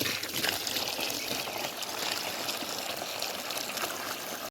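Water from a hillside pipe flowing into a storage drum on an orchard farm, a steady close splashing, gushing stream that runs on without pause.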